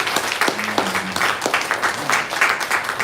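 A church congregation applauds, with dense close clapping mixed with some voices and brief low tones, fairly loud and steady throughout.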